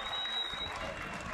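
Crowd applause at a Cyprus league football match in a stadium as goalkeeper Ali Duvarcı leaves the pitch, steady and fairly loud throughout with dense clapping and no pause.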